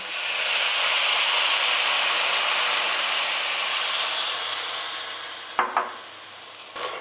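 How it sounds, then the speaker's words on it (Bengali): Rice, lentils and vegetables simmer and hiss in a wok after water is added, with a steady steamy sizzle; late in the clip a few close scrapes and knocks of a spoon stir along the bottom of the pan. "জল দেওয়ার পর ভালো করে তলা থেকে একটু এইভাবে কুড়ে দিচ্ছি যাতে কড়া তলাতে না লেগে থাকে"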